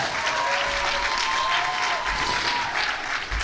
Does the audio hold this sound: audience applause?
yes